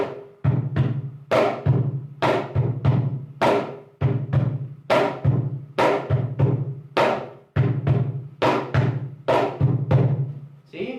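Peruvian cajón playing a landó base variation with an added bass stroke at the end of each cycle, looping into the start; close, punchy low tones mixed with crisp slaps, played alone.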